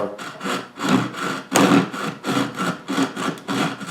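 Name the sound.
sawing wood for a doll bunk bed headboard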